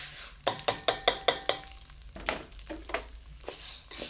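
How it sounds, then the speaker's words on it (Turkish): Rice and vermicelli sautéed in a pan for pilaf: a quick run of sharp spoon scrapes and taps against the pan over soft frying crackle, then slower stirring strokes, close and without talk. "Pirinci de bu şekilde kavuruyoruz."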